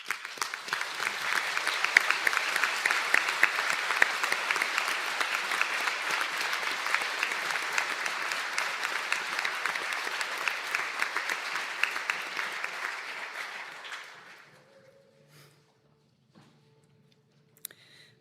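Sustained round of applause from a crowd for graduates at a conferring ceremony in Donegal, dense hall-filling clapping holding steady for about fourteen seconds before fading into near silence.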